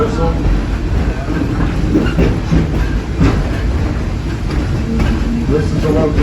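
An excursion train pulling into Firestone Station at Torch Lake, with loud close rumbling of railcars and rhythmic clickety-clack of wheels on track throughout, steady and unbroken.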